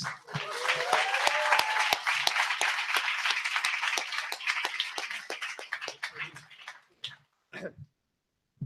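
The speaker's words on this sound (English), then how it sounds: "Put your hands together very loud for Tom Du Bois." Sustained applause from a stand-up comedy audience with dense clapping and a few cheers, fading near the end with a couple of last scattered claps.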